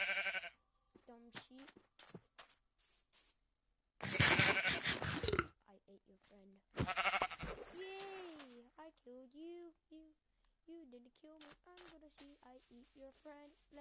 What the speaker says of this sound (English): Sheep. Dumb sheep.